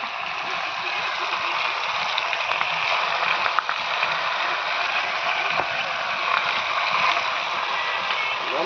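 Marinated kendai pond fish drops into hot oil and fries with a continuous, dense crackling sizzle. The sound is close and steady throughout.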